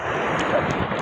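Rough sea waves surge and churn in a steady, loud wash, with wind buffeting the microphone throughout and no clear voices.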